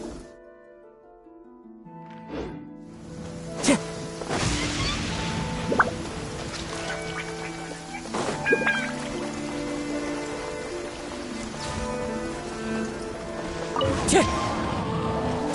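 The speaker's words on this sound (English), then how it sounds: "Taking a stroll in the middle of a downpour certainly rouses the spirit." A steady rain downpour in Genshin Impact patters on surfaces, with scattered heavier drops and splashes over a continuous wash of falling water, while faint in-game music tones ring through.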